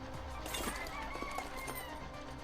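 A chicken clucks in the video game Pathologic: faint, quick, scattered clucks over a soft background ambience.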